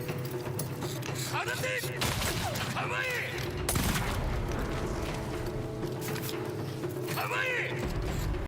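Gunfire in Ghost of Yotei, a samurai-era video game: a few sharp shots with metallic mechanism clicks amid dense battle noise and shouting voices, loud and close throughout.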